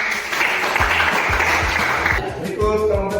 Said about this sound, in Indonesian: mari kita berikan tepuk tangan untuk kelompok 2